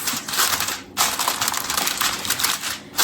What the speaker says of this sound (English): So I'm gonna place my foil over the top.